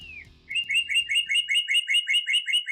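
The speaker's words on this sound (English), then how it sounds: "Have you noticed the birds seem to have grown louder in the past months?" Small birds chirp in a fast, steady series of bright, high tweets, close and clear with nothing else underneath once the calls begin.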